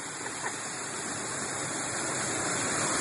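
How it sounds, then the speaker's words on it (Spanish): A hidden waterfall in El Bolsón gives a continuous broadband roar of falling water. The rush is steady and fairly close, with no talking. "¿Ven cómo cae el agua?"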